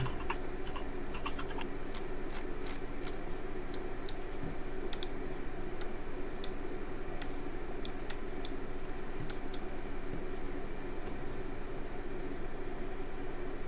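Faint keyboard typing, light scattered clicks in short bursts over a steady low background hum, with no talk.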